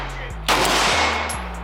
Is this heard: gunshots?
yes